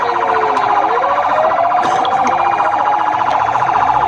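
A loud, continuous ambulance siren wails, rising and falling steadily throughout, close by and dominating the scene with faint background noise underneath, at Nakanyonyi SS in Mukono.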